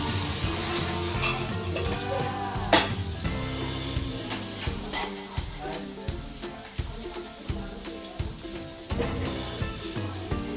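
Bangda mackerel fish frying in a pan, cooked home style: a steady broadband sizzle runs throughout, with occasional clinks and scrapes and low background voices.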